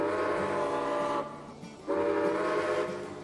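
A Santa Fe steam locomotive whistle in the train game Railway Empire blows loud and close in two long steady blasts, split by a brief pause, over a low rumbling engine.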